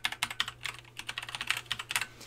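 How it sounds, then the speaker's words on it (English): Someone types text on a computer keyboard, a quick irregular patter of crisp key clicks at close range, steady throughout with no voice over it. "So we'll just type that in now."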